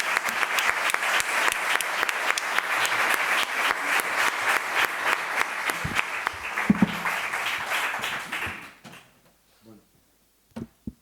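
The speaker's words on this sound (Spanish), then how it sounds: "Lo recibimos con un aplauso" Audience applause welcoming a speaker to a talk on democracy, a dense burst of clapping from a crowd that fades out after about eight seconds, followed by a few scattered knocks and near silence.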